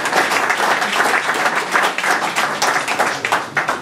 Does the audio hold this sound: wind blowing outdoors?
no